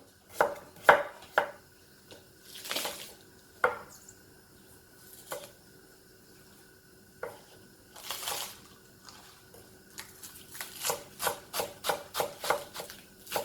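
A kitchen knife chops galbitang ingredients into large pieces on a cutting board, giving irregular sharp knocks that grow into a faster run of close, crisp cuts near the end.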